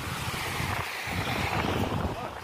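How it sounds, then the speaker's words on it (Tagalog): Strong ocean waves at Al Mojerma Beach on a windy day crash and churn in a rough, continuous roar, mixed with gusts of wind buffeting the microphone. "lakas ng alon no."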